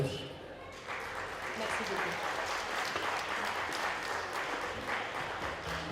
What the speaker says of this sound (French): Mesdames, messieurs, on applaudit Marianne.